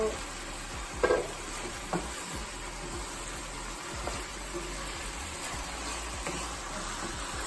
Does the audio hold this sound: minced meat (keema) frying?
yes